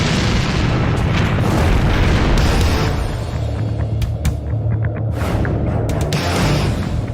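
A rapid series of heavy booms and bursts, loud and continuous, rolling into one another with sharp cracks standing out near the end.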